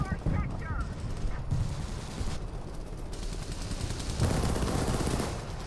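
Artillery strike and heavy gunfire in War Thunder, rapid machine-gun bursts and booming impacts rolling on for several seconds, with a fresh loud surge near the end.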